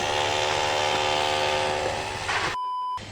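A power drill whirs continuously through a neighbour's repair work, a loud, steady buzzing that runs for over two seconds before cutting out to a brief electronic tone.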